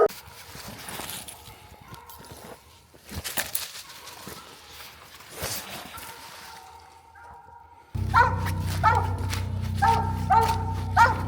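Hunting dogs bay and bark at an animal treed in the woods. Repeated barks come at first moderately near with quieter gaps, then grow louder, denser and more rhythmic after an abrupt cut.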